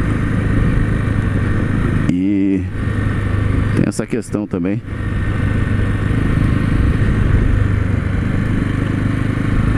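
A Honda Sahara 300 motorcycle engine drones steadily while riding, with wind rush throughout and a voice talking briefly over it.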